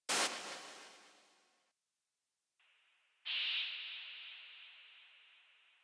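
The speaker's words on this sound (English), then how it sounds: "Starting with these 2 noise effects." Two synthesized noise impact effects from an Ableton Live breakbeat production: a loud bright noise burst decaying over about a second and a half, then after a gap a quieter hiss jumping into a loud sustained noise with fluttering echo and long reverb tail.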